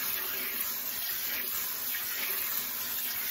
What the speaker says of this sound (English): I'm going to rinse them like twice, but I think one time will do.